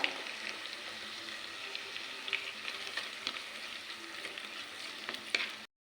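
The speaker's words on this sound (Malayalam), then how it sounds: "ഉള്ളി കുറച്ചൊന്ന് വാടിക്കിട്ടിട്ടുണ്ട് നമുക്കതിലേക്ക് ചെറിയ ഉള്ളി ചേർത്ത് കൊടുക്കാം" Onions and small shallots sautéing in oil in a pan for a Kannur-style roasted-coconut chicken curry, a steady close sizzle with occasional light scrapes of stirring, then cutting off abruptly at the end.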